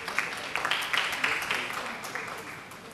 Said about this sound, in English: Please a round of applause as we welcome Mr. Irola Ayodeji.